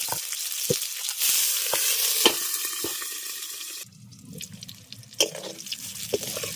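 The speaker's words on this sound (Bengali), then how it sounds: "এবার ঢাকা দিয়ে বেগুনগুলোকে ভেজে নেব" Whole eggplants frying in oil under a lid give a steady, dense sizzle with scattered pops and crackles, dropping to a softer bubbling hiss with a low rumble midway.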